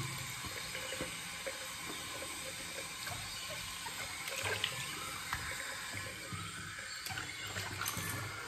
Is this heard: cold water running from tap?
yes